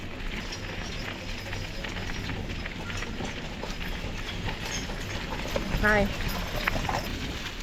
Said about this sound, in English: we're coming up on one of those wagon rides